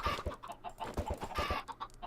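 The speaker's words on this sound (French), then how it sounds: "On va mettre des poulets." Several Minecraft chickens cluck in quick, irregular bursts of short clipped notes, fairly quiet and close, with no talking over them.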